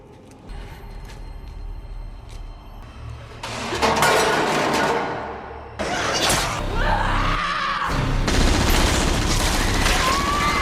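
Loud, dense bursts of gunfire fill a zombie film scene as characters shoot at zombies, with rapid overlapping shots and crashes running almost continuously for several seconds.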